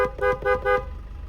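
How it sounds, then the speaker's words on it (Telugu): A used car with about 67,000 km on it sounds its horn in four short, loud, evenly spaced toots, followed by quieter background hum. "హారన్"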